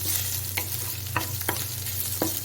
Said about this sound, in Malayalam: ചതച്ച് വെച്ചിരിക്കുന്ന ഇഞ്ചിയും വെളുത്തുള്ളിയും കൂടെ ആഡ് ചെയ്ത് നന്നായിട്ട് മൂപ്പിച്ചെടുക്കുക